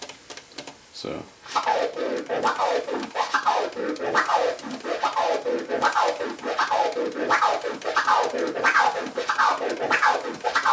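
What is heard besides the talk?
turntable scratching, three click orbit flare scratch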